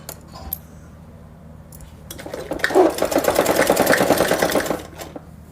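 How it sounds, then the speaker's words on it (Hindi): Electric sewing machine stitching a girl's salwar seam, starting after a short pause and running steadily for about three seconds with a dense rapid needle chatter, close and loud, then stopping. "सिलाई कर देंगे 6 से ही।"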